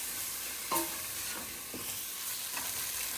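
A continuous close sizzle of spices frying in oil for a lamb curry, broken by a few soft spoon scrapes against the pan.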